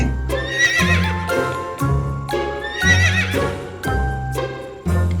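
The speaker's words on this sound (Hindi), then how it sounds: "अरे ये तो उड़ने वाला घोड़ा है" A horse neighs and whinnies loudly, several repeated calls in a regular rhythm with clip-clopping hooves and a faint jingle between them, close and alone with no speech.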